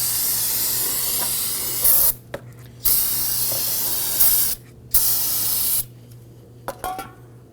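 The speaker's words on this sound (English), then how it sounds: "we're now going to go ahead and use some spray solvent" Spray solvent blasts onto the brake master cylinder and booster area of a 2008-2011 Ford Focus in several loud, close hissing bursts of a second or two each, separated by short silent pauses.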